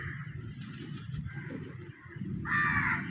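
Crows cawing outdoors on a rainy, sunny day, with repeated harsh caws at moderate distance over a steady background of rain and ambient noise, the last call louder and closer, with no talking.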